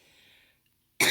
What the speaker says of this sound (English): I'm still just got a little bit of this cough left from this bug